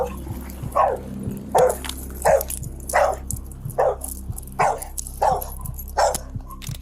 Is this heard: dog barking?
yes